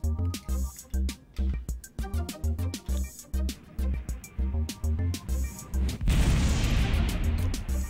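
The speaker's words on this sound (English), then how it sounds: "And we are shooting one SAS-2 missile." Rapid rhythmic booming bursts from an SAS-2 missile launch in a naval combat video game, a steady series of punchy thuds ending in a sustained roaring rumble, loud and close.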